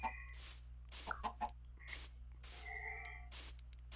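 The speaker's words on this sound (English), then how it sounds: "Oh, I'm trying to get this chicken." Chickens in the Minecraft Wyrmroost mod cluck in short, spaced bursts, a few clucks at a time, with small game clicks between them over a faint steady hum.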